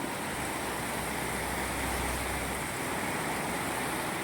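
Floodwater rushing during heavy rain in Vaipur, a constant dense roar of water with a low rumble underneath, loud and unbroken throughout, no voices.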